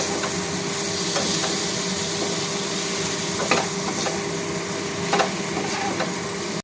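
Taro stolons (kochur loti) stir-fried with spices over medium heat for a prawn curry, giving a steady broadband sizzle in the pan with a few sharper scrapes of the spatula, close and continuous with no talk.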